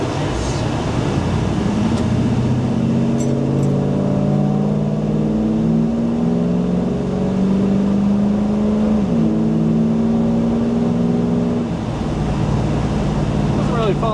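An LS-swapped car engine hums and rises in pitch as it revs, holding high for several seconds before dropping back, with faint background wind noise.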